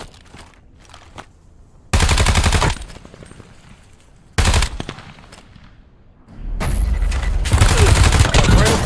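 Automatic gunfire from Call of Duty: Warzone comes in loud, close bursts: a short one near two seconds, another shortly after, then a sustained heavy barrage that runs to the end, with quieter game sounds between the bursts.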